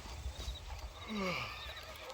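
In the Red Dead Redemption video game, a horse gives a clear whinny while its hooves clop underneath, the neigh rising and falling over about a second amid steady hoofbeats.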